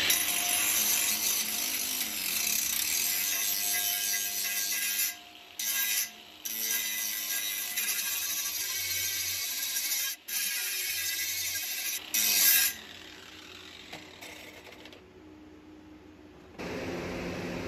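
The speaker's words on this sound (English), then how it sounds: "we'll clean up with a grinder" Freehand angle grinder cleaning up the rough hook edge on a machete cut from a steel saw blade: a loud, harsh, continuous grinding hiss that cuts out briefly a few times as the tool lifts off, with no talk.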